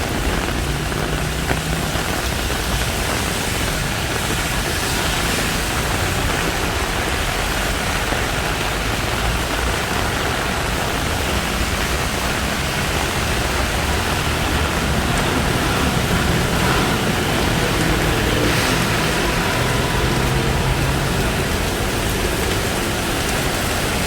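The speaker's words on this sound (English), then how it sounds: "It's absolutely pouring now." Heavy rain pours onto a Bangkok street near Nana BTS station during a thunderstorm, a dense, unbroken roaring hiss that stays loud and even throughout.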